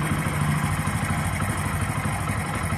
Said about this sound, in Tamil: வண்டியை வந்து கொஞ்சம் ஸ்டார்ட் பண்ணி விடணும்.